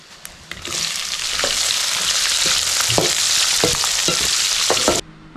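Chopped onions fry in hot oil with whole spices, a bright steady sizzle rising quickly and holding loud, with occasional light clinks and scrapes, then cutting off abruptly near the end.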